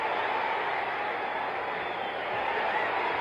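A boxing crowd roars steadily throughout as Muhammad Ali lands punches on Lyle, a dense continuous arena din with no clear talk on top.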